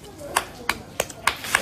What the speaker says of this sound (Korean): 박수는 왜 쳐?